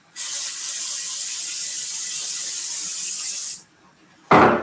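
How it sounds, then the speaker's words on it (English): A steady aerosol oil spray hisses onto a waffle iron for about three seconds, close and loud, then stops; a brief clatter follows. "I'm going to spray with some oil just for speed"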